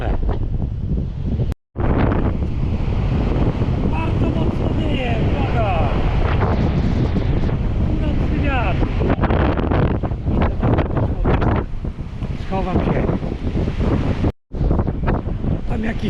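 Strong wind blasts across a beach, roaring and buffeting the microphone almost constantly with brief drops, while surf rumbles underneath and a voice talks intermittently.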